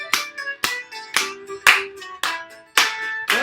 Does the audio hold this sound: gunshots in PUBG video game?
no